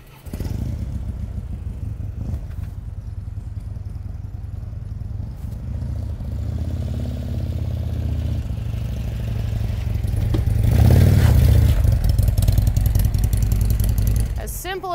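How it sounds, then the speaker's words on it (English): A motorcycle is ridden up and loaded into the trailer of a 2019 Logan Coach Silver Eagle LTD, its engine idling and chugging close by, then swelling louder as it climbs in, with a burst of clatter near the end. "now we are going to have Marcus load his motorcycle into the trailer real quick"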